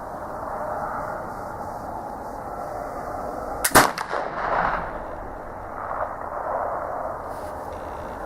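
A single heavy boom from a Traditions PA pellet flintlock rifle fired outdoors, loaded with 90 grains, bursting out of steady wind noise and followed by a brief rolling echo.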